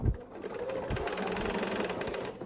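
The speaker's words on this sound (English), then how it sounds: "I sew my 1/4 inch seam." A sewing machine runs a quarter inch seam on linen, a close, steady rapid whirring and needle chatter that continues without pause.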